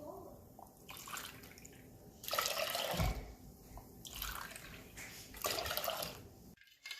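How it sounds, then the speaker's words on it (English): Water pours steadily into a bowl of pani puri spice mix nearby, with a few louder splashing bursts as the stream shifts; no talking. "I'm going to add 8 cups of water and mix all of this pani."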